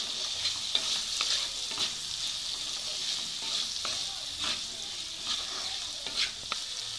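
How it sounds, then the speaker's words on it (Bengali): Potatoes with turmeric and salt stirred in a hot pan, a steady sizzle with repeated scraping stirs, close and without talk. "এবার আমি ভালো করে মিশিয়ে নেব।"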